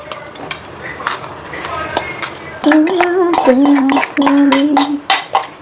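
Metal spoon scraping and clinking against a pot while soaked garden cress seeds are added and stirred in a home kitchen, with scattered taps early on, then sustained scraping strokes and sharp knocks, with faint talk underneath.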